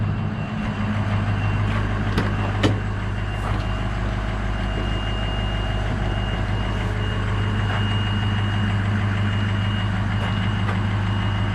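A 2003 Ford F250 with a 6.0 diesel engine idles steadily and fairly quietly, a continuous low rumble heard close up without talk.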